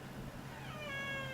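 A cat meows indoors, a single drawn-out, rising call that is close and fairly loud, with no talking over it.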